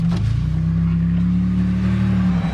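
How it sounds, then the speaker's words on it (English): A Nissan Patrol accelerates with a steady low engine drone and a constant whining hum from its noisy GTR transmission, heard from inside the vehicle. "You can hear the GTR transmission's a little noisy"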